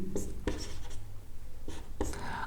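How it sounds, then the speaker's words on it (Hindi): A pen scratches across paper while a letter is written, with several short bursts of scribbling separated by pauses, close and fairly quiet. "तो इसको मिटा देते हैं और नया फिर से लिखते हैं"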